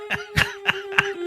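Four quick, rough coughs from a man in a sports radio studio, evenly spaced in a tight burst, close and fairly loud over a faint steady hum.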